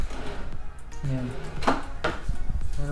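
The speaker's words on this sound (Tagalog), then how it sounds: "Meron pang isang drawer dito." A drawer in a Philippine quarantine hotel room slides and knocks shut nearby with a couple of short thuds and scrapes, while a person talks over it.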